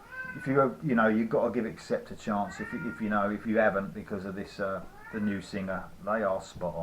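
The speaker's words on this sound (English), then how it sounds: "Sorry about the cat, by the way." A cat meows repeatedly in the room while someone talks about heavy metal albums, its rising calls mixed in with and sometimes louder than his speech.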